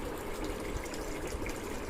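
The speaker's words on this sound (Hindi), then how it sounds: "ये देखिए दोस्तों, ये पानी गिरना शुरू हो गया है पाइप में से" Pumped water pours from a pipe onto a poultry farm cooling pad, making a steady, even rushing splash with no pauses.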